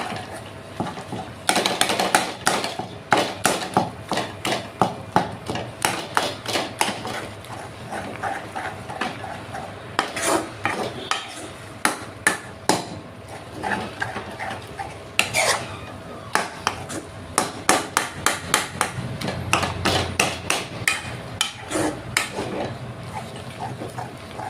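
Kosur pata vorta ingredients being mashed in a pot, with a long run of irregular, close knocks and clatters of utensil against metal.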